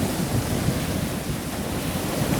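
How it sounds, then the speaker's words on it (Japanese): Ocean waves, captured in stereo on an Insta360 GO Ultra camera, make a steady, full wash of surf with some low wind rumble, continuous and fairly close, with no voices. "波の音が立体的に聞こえると思います。"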